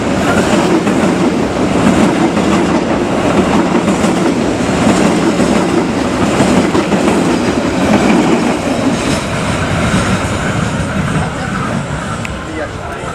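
Penataran passenger train on the Blitar–Surabaya Kota line, hauled by a CC 03 locomotive, rolls past south of Surabaya Gubeng station with a steady, loud rumble and wheel clatter that holds throughout and eases slightly at the end.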